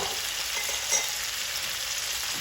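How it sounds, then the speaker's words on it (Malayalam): Chicken pieces stirred and fried in a pan on very low heat for a chicken fry, a soft continuous close sizzle with a faint stir scrape, no voices. "ചിക്കൻ ചേർത്തിട്ട് ഇനി ഇത് ഇളക്കി വെച്ചിട്ട് ഇനി വളരെ ലോയിൽ ഹീറ്റിങ്ങിൽ വെച്ചിട്ട്"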